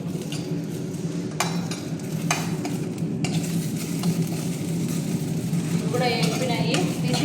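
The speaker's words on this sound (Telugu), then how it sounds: "ఇంకా కార బీరకాయ పచ్చడికి అయితే వేపుకుంటున్నాం" Ridge gourd fries in oil in a pan for spicy chutney, a steady close sizzle with a spoon scraping and clinking against the pan now and then.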